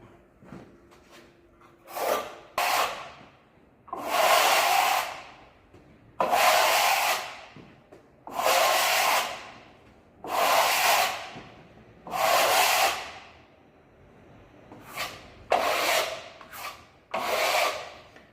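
A plastering trowel drawn across rough, dry lime plaster during renovation, about a dozen loud, gritty rasping strokes in an irregular rhythm with short pauses between them.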